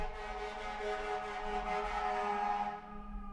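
A siren wails steadily in the distance, a sustained tonal drone that fades toward the end, with no talking.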